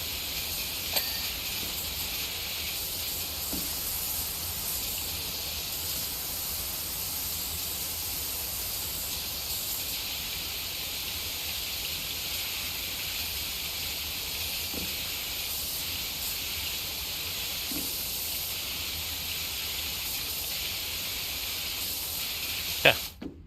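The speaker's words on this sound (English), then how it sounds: "let's spray all this from this angle" A pressure washer sprays cars in the video game PowerWash Simulator, a loud, continuous hiss of jetting water held steady for over twenty seconds, with faint clicks and no speech.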